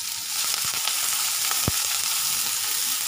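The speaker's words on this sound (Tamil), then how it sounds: "இதில் நம்ம கொஞ்சம் ஆனியன் போட்டுக்கலாம். நல்லா வதங்கட்டும்." Chopped onions sauté in hot oil with curry leaves for beans usili, a steady close sizzle broken by a few sharp pops and spatula taps.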